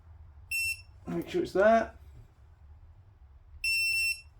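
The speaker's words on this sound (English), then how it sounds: "Let's keep going until we get a lovely beep from the torque wrench." Two short electronic beeps from a torque wrench while fitting 155mm Hope cranks on a Specialized Turbo Levo Carbon e-bike, one early and one near the end, with a brief spoken remark between them in a quiet room.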